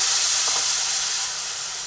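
Water hits spiced fish masala with green chillies in a hot pan, giving a loud, close, steady hissing sizzle that eases off slightly toward the end.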